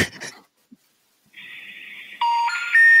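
Three rising electronic intercept tones for a disconnected number ring out, then a second tone burst follows, clear and close over an otherwise quiet phone line.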